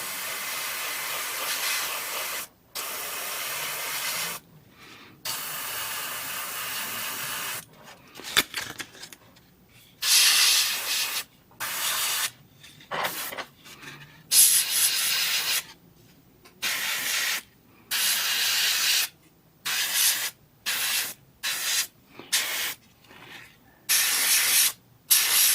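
Aluminum paint sprays onto a part for an RG Wing Gundam Zero model kit in repeated short hissing bursts of a second or two each. Brief silent gaps separate the bursts, which run for about twenty-five seconds.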